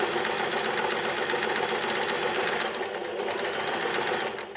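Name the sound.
sewing machine stitching forward and reverse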